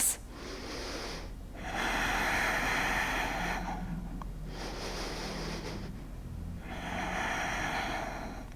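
Slow, deep breaths during a standing yoga balance in a gentle hatha and vinyasa class, long airy inhales and exhales alternating with short pauses, steady and close.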